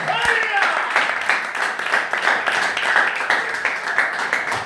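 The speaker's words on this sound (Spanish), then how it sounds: "Ahora se aplauda." A church congregation claps and applauds steadily, a dense, continuous patter of many hands filling the room, with a voice briefly audible at the start.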